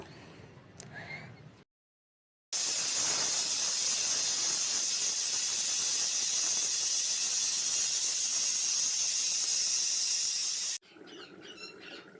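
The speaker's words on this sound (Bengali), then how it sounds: "এখন আমি কুমড়া বড়িগুলোও সব ভেজে নেব" Pumpkin lentil dumplings (kumra bori) frying in hot oil give off a loud, steady sizzling hiss for about eight seconds after a brief silence, with quieter kitchen sounds before and after.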